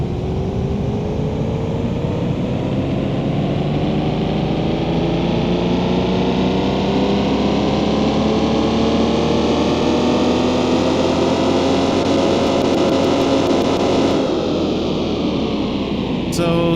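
A modified BMW E46 M3 engine, simulated in Car Mechanic Simulator, revs continuously on a dyno, its loud droning pitch climbing steadily through a long pull before cutting off near the end.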